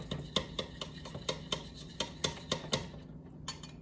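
A utensil stirs chocolate and oil together in a bowl as they melt, making a quiet, regular series of clinks and scrapes against the bowl, roughly two to three per second, with no talk.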